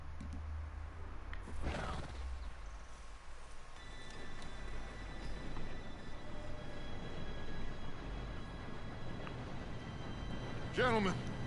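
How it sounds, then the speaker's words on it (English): A train in Red Dead Redemption 2 rumbles in low and steady, its rolling drone rising with faint metallic whine, as characters speak over it and a sharp squeal cuts in near the end. "Train should be here any minute."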